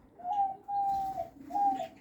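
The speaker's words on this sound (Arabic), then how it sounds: "طائر حلو مغرد جميل" A Java sparrow sings a few clear, soft whistled notes in a short phrase of three spaced calls, close by and quiet, with no talk.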